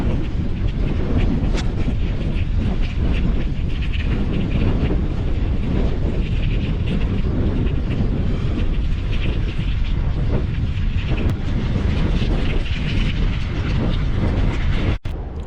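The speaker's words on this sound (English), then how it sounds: "It's a crazy sound that you can hear just being produced by these windmills." Wind turbines along the LA Aqueduct give a steady, loud broadband roar and rumble that runs the whole time with no break, mixed with wind buffeting the microphone, and no one talks.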